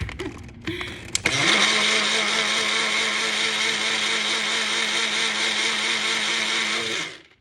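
A blender mixes a protein, fiber and greens smoothie, starting after a couple of clicks and then running as a loud, steady, close-up whir for about six seconds before winding down.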